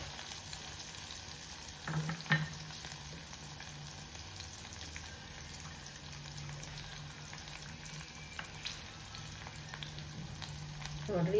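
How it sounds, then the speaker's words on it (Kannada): Chillies fry in a pan with a steady, faint sizzle and a couple of soft stirring clatters, heard alone without talk. "ಆಮೇಲೆ ಮೆಣಸಿನ್ಕಾಯಿ ಹಾಕ್ಕೊಬೇಕು. ಸ್ವಲ್ಪ ಫ್ರೈ ಆಗೋವರೆಗೂ"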